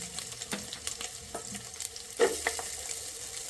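Green chilli and ginger sautéing in a hot pan with spices for chicken stew, a soft continuous sizzle with light stirring scrapes, close and fairly quiet.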